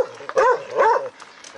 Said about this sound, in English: my good friend Muracho is defending from evil dogs.